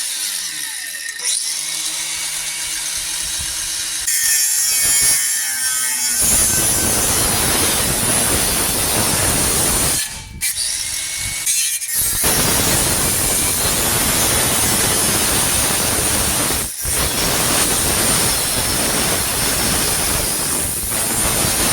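An angle grinder cuts through the rear subframe of a Jaguar XKR in a barn, a loud continuous harsh whine and hiss that runs steadily for most of the stretch, dropping away briefly twice.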